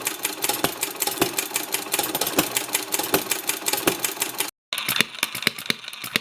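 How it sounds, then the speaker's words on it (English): A Phil Duclos 6-cycle hit and miss model engine runs close by, firing in rapid, sharp mechanical clacks with a brief silent gap before the ticking resumes slightly brighter. "This is a Phil Duclos 6-cycle hit and miss engine."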